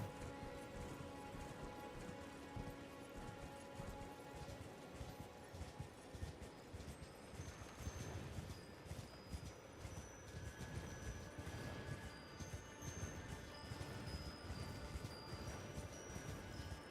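Horse hooves clip-clopping at a steady gallop in the fantasy action game Elden Ring, a continuous rhythmic pounding over sustained game music with chiming tones, fairly loud and without speech.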